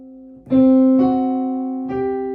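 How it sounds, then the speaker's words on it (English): Two sustained tones, one after the other, forming a tense, dissonant interval. Each starts with a soft attack and rings out steadily with no voices. "So tritone sounds like this."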